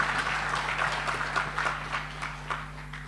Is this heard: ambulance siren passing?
no